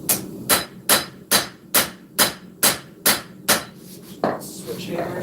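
Nine evenly spaced, ringing hammer blows on hot steel at an anvil while a sword is forged, loud and close at about two strikes a second, followed by a softer final strike and scraping.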